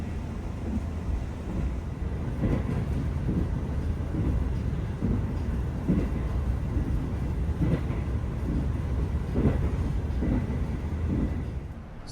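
The KA Lodaya executive passenger train rolls into Maos station with a loud, continuous rumble broken by regular wheel clacks over the rail joints. No voices are heard.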